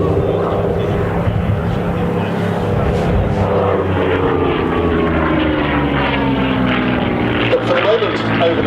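A Hispano Buchon Bf 109 warbird sweeps past at the Duxford airshow, its piston engine roaring loud and steady with a rising and falling pitch as it flies by.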